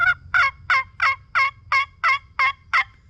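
A wild turkey gobbles in a rapid series of about nine loud, rattling bursts, evenly spaced and close by, over a low background rumble.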